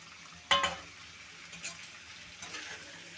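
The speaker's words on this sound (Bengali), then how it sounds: "এখন দিয়ে দিচ্ছি ডাঁটা আলুগুলো" Drumstick stalks and potatoes hit hot oil with a loud sudden sizzle, then settle into a steady frying hiss with brief stirring scrapes, for a Bengali fish curry with drumstick and ridge gourd.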